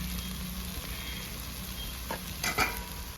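Ground chili, coriander and turmeric powders sizzle steadily in hot oil while frying a country chicken dish, with a continuous close crackle and a few louder stirring scrapes near the end.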